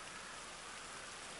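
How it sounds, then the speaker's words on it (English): Steady rain in Grand Theft Auto Online on PS5 hisses continuously, a dense even wash of falling drops with no other sounds. "I think because it's raining"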